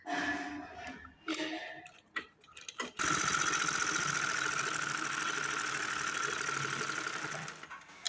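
Domestic sewing machine stitching a straight seam on a pajama, a steady fast mechanical whir and rapid clatter running alone for several seconds after some brief handling knocks and rustles.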